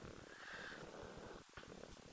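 A soft, steady cat purr rumbles close by, low and continuous with a slight rhythmic pulse, and nothing else heard.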